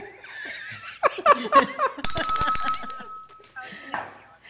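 A small hand bell rung by a quiz winner on a live Brooklyn cafe show rings out with sustained metallic tones, preceded by laughter and talk and followed by a voice.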